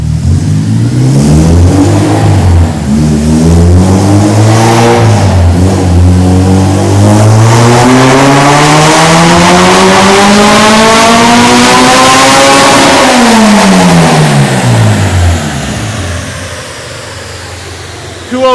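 A Honda K20Z3 engine in an Integra revs hard on a dyno pull, a loud continuous wail that climbs steadily in pitch for about thirteen seconds, then drops as the throttle closes and the engine winds down.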